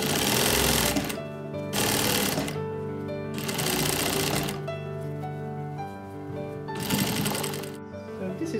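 A sewing machine stitches a corset modesty panel in loud, fast bursts of needle chatter broken by short pauses, with a steady motor hum running under each run of stitches.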